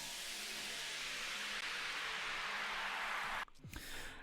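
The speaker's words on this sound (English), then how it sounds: "So yeah, we have some white noise, some atmospheric type stuff here." Steady broadband white noise fills a dubstep track intro as an atmospheric layer, loud and continuous before cutting out abruptly near the end with a brief swoosh.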